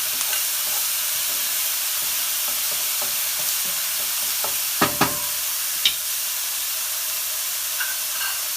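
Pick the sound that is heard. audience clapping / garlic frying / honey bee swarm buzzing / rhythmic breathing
garlic frying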